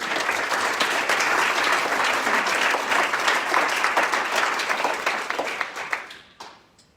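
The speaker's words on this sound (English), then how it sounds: "let's give our committee heads a round of applause for their hard work." Warm, sustained applause from an awards-night audience honoring committee heads, dense steady clapping that holds strong for about five seconds before thinning out and fading to a few last claps.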